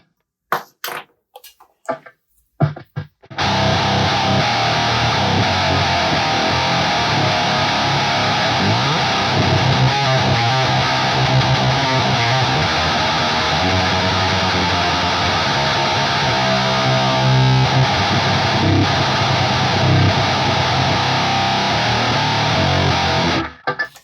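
An electric guitar plays through a parallel overdrive distortion pedal, a thick fuzzy wall of sound after a few short picked notes, loud and sustained for about twenty seconds.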